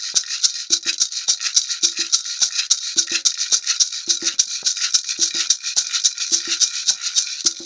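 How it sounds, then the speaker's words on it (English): A tight plastic maraca shaken in a steady rhythmic pattern, crisp bright rattling strokes up close, alone, in a percussion part. "another maraca that's a little bit tighter,"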